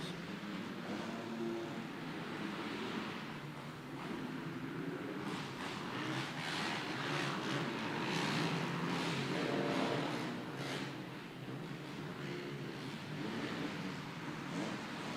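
Small race cars roar around a dirt track at the Battle in the Barn race, a continuous engine drone that swells and fades as the pack passes, heard at a moderate distance.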